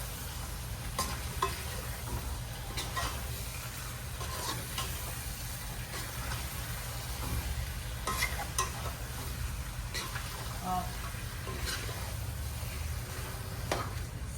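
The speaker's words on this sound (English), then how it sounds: "You're giving it a nice stir now." Hassa curry being stirred in a pot, a continuous low sizzle with regular scraping strokes of a spoon every second or so, fairly close, no voices.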